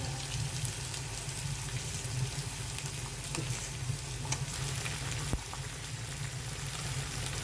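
Magur catfish sizzles and fries in a pan while being stirred and reduced into a bhuna, a steady close crackling hiss with light scraping throughout and no voice.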